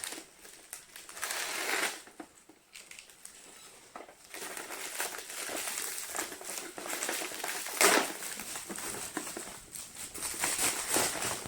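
A plastic priority mail mailer bag is cut open and handled, giving quiet crinkling and crumpling rustles in uneven bursts with brief pauses and a few sharper snips.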